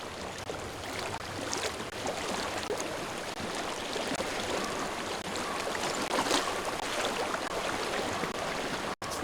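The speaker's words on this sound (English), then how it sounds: "I hear water. Go to it." Water flows steadily in the game Hellblade: Senua's Sacrifice, a continuous broadband rush like a nearby stream that holds at an even level throughout with no voices over it.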